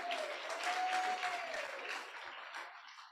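Audience applause at an astronomy or dark-skies event honoring a presenter, a steady wash of clapping with a few cheers, loud at first and gradually thinning toward the end, with a faint tone running underneath.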